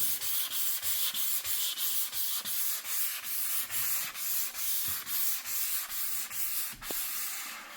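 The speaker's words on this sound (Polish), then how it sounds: "I teraz pozostało jeszcze przeszlifowanie, żeby wyrównać ewentualne jakieś tam nierówności." Sanding freshly repaired grout beside a bathtub, loud close rhythmic back-and-forth rasping strokes in a steady regular beat, with a brief knock near the end and no talking.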